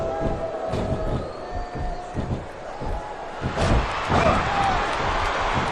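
Crowd cheering and roaring in the WWE SmackDown vs. Raw 2007 video game during a six-man elimination tag match, a steady loud arena swell with brief surges, heard under commentary.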